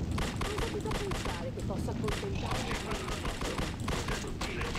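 Rapid gunfire rattles in dense bursts at the player in the horror game The Suffering, loud and continuous with a voice talking over it.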